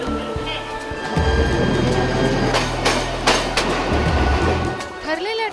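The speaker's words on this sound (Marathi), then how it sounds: "ठरलेल्या ट्रेनचा ठरलेला डबा" A train at Mumbai's CST railway station on a quiet Sunday gives a loud, steady low rumble with metallic clanks, lasting several seconds before it eases off, while voices carry faintly in the background.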